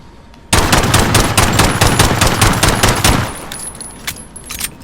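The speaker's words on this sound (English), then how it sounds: "I'm going to shoot as fast as I can and see how accurate the grouping is of each pistol" Rapid burst of pistol shots from Call of Duty Modern Warfare, a dense run of sharp, loud reports fired as fast as possible for about three seconds, followed by a few scattered fainter clicks and sounds.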